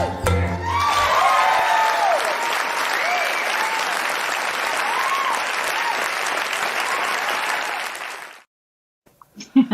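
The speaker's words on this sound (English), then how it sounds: "I can hear people all the way from Hanover, New Hampshire applauding here in Brooklyn" A remote live-stream audience applauds in a dense, steady burst of clapping for about eight seconds, then it cuts off abruptly into near silence with a few faint clicks.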